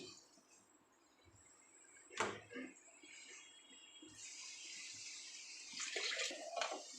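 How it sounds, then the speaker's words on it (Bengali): One bowlful of water is poured into a pan while making semolina laddu: a quiet splash, then a steady trickling rush that swells near the end, faint and close, with no speech. "এখানে আমি 1 বাটি জল দিয়ে দেব।"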